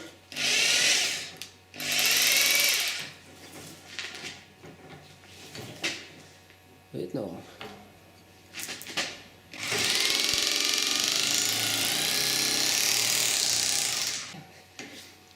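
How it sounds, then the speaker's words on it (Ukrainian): Rotary hammer drill set to hammer mode, driving against a steel rod: loud bursts of sustained rattling impact, a short one, a longer one, then a long run, with a brief spoken word and workshop clatter between bursts. "Перфоратор творить чудеса."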